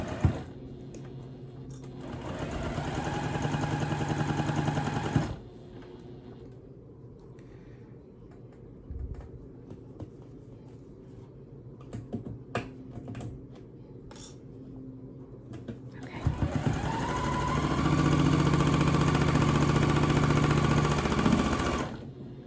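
A sewing machine stitching a quilt block of bias-cut fabric runs in two loud, steady bursts at the start and end, with quieter handling and fabric rustling between them.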